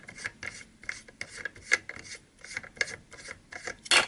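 Parts of an electronic hookah being unscrewed, giving repeated short raspy scraping and rubbing bursts at close range, with a sharper bright scrape near the end and no talking.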